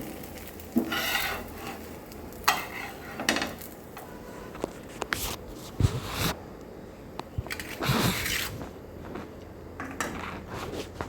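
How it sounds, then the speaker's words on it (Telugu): Something roasting in a pan until golden, with intermittent scraping and rubbing of a spatula against the pan and light clatter, close, over a faint background hiss, no talking. "చూడండి ఇలా గోల్డెన్ రంగు వచ్చే వరకు బాగా కాల్చుకోండి"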